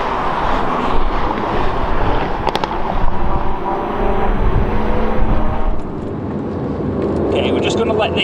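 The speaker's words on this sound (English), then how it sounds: "we're just going to let this car go by" A car roars past at speed on a race track, its engine loud and close before fading, with steady wind and road noise from a 2018 Aston Martin Vantage throughout.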